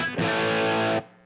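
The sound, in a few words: electric guitar through HX Stomp pedalboard with ambient reverb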